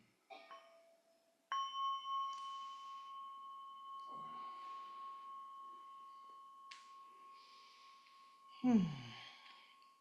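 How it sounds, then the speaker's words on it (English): A small meditation bell is struck a few times during a Buddhist sangha gathering, each strike ringing out as a faint, sustained tone that decays slowly in a quiet room, with soft breathing and a sigh. "So we'll have a small bell to massage our bodies in preparation for standing."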